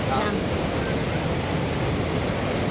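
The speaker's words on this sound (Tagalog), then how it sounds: "Ang lapit po ng dagat ngayon." Ocean waves at Bagasbas beach make a continuous broadband rush of surf, with wind buffeting the microphone throughout.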